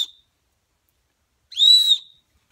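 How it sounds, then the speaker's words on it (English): A whistle built into the sheath of a Bear Grylls survival knife is blown. There is a tiny chirp at the start, then one shrill, clear blast about half a second long after a pause, heard alone. "And of course it's got a whistle."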